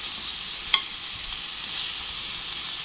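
Chicken browning in a frying pan gives a steady, even sizzle with a single faint tap partway through. No one speaks.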